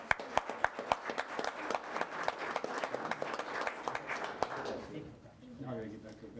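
Applause rings out at a county commissioners' public meeting, many sharp claps over a dense wash that fades out near the end as a voice begins speaking.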